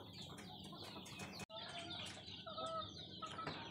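Breeding hens in a raised coop cluck and murmur close by, with a brief break partway through and some rustling, no talking.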